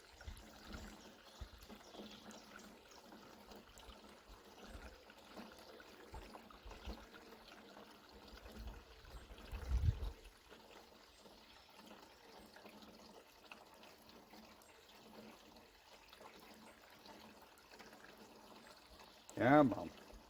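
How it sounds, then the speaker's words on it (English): Water trickling off the bottom of a funnel on an old Lister engine, a faint continuous dribble with a couple of louder splashes, heard under quiet background talk. "I can still hear the water running off the bottom of the funnel"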